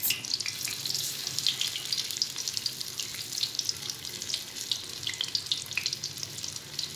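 Hot water pours steadily from a tap in a continuous, close hiss with small splashy fluctuations and no talking.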